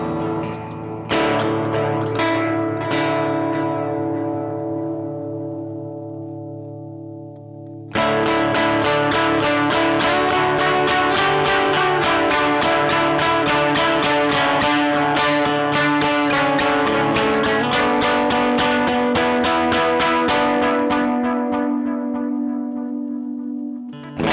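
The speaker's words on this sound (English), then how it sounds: "if I put that to the chorus, turn off the reverb and turn on the delay, and make the speed go up a little bit" Electric guitar runs through a Sonicake pedal set to chorus with delay, reverb off and speed raised. A ringing chord decays, then a new strummed passage swells with a wobbling, echoing shimmer that carries on steadily, with no voices.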